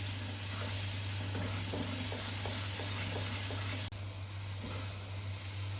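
Banana halva stir-fried in ghee in a wok, giving a steady close sizzle and hiss with faint scraping stirs over a constant low hum, no voices.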